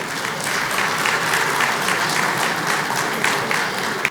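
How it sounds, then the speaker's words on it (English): A business conference audience breaks into a big, sustained round of applause, dense and fairly loud clapping from a large crowd with no talk over it. "A big round of applause, please."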